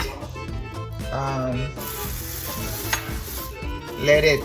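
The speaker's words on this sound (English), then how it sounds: "here is the water that is boiling" Bubbling and sizzling water boiling in a pot for calabaza squash soup, a constant close churning, with indistinct talk mixed in.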